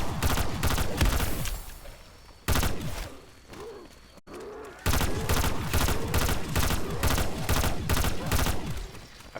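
Rapid bursts of gunfire from a zombie video game fire one after another with short gaps, loud and close throughout.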